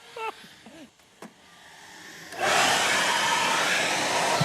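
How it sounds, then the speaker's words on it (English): A leaf blower starts up partway through and then runs as a loud, steady rushing whoosh in a shed, after a few faint squeaks and knocks. "Should you put the leaf blower on?"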